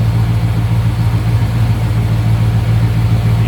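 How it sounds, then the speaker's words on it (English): A 1948 Ford Coupe street rod engine idles steadily and smoothly up close, a low even rumble with no revving and no talk. "Hear how smooth that engine runs too"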